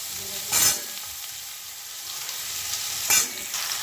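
Cubed potato and eggplant sizzle in hot oil in a pan for a Bengali chorchori, a steady close frying hiss broken by two brief scrapes of a spatula stirring the vegetables.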